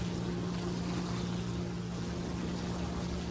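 A Messerschmitt Me-410 piston aircraft engine drones steadily in the War Thunder combat game, a loud, constant low hum with a sustained tonal whine and no talk.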